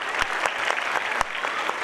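Loud, dense applause from an audience at Surya Urdu School's annual gathering, sustained throughout with a few sharper bursts of claps standing out.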